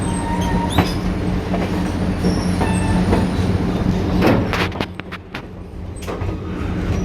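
A passenger train rides along the rails on a summer evening, a loud steady rumble with rhythmic clicking of wheels over joints and occasional squeals and metallic clanks, heard from on board.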